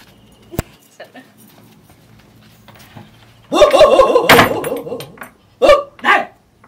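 A dog barks and yelps in a few loud bursts near the end, with a sharp earlier yip, in an otherwise quiet indoor setting.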